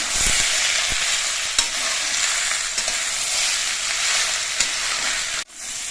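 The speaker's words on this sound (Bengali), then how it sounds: "উঠে পাতা দিয়ে আমি মিনিট খানিকের মতো কষিয়ে নিয়েছি" Bitter gourd leaves being stir-fried in a pan, giving a loud, steady hiss of sizzling oil with occasional scrapes of a spatula, close and continuous with no voices.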